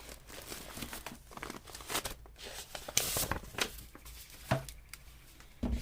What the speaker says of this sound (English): So let's see what I can find in my envelopes here.